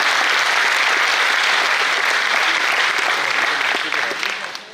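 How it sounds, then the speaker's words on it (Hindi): An audience at a trilingual poetry gathering marking a municipal corporation's anniversary in Ichalkaranji claps loudly and steadily, dense applause filling the room before fading slightly at the end. "एक बार खुद के सम्मान में आप तालियां।"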